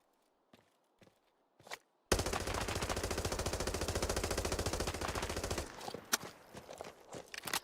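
Sustained automatic gunfire from a full magazine dump in Arena Breakout Infinite, a dense rapid burst lasting several seconds, preceded by a few scattered footsteps and followed by sparse clanks and movement sounds.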